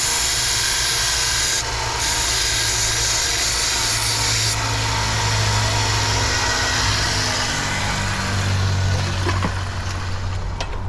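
An angle grinder trims the excess lip off a homemade lead fishing sinker, giving a loud, continuous grinding whine that runs unbroken through the whole stretch with slight shifts in pitch.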